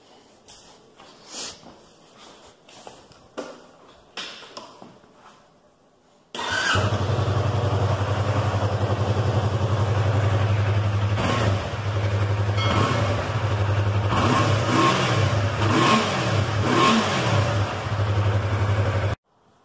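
A 2017 Yamaha R3 motorcycle engine with stock exhaust fires up after a few quieter knocks and settles into a steady, loud idle with occasional revs, close to the listener.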